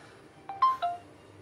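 Three short tones of a telephone dialing on a call that goes unanswered, quiet and close, alone against near silence.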